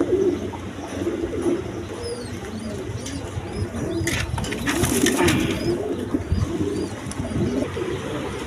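Large red Rajgolla pigeons coo in a loft, giving overlapping low rolling calls that repeat steadily and sound close, with faint background rustle and a brief flutter in the middle.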